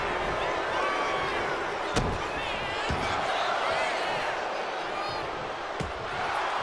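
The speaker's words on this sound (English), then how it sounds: "what a right hand from the Granite Man, Drew Tanner. Knocking out the Hall of Famer right away" Punch impacts land in the WWE 2K25 wrestling video game, a few sharp slams over a steady arena crowd roar while commentary talk runs throughout.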